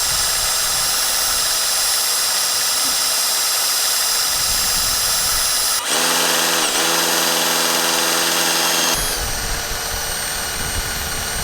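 A drill-driven pump draws petrol through a hose to drain a diesel vehicle's tank. It starts with a loud, steady high whine, then the motor pitch shifts and strains for a few seconds before it settles again. Close and continuous.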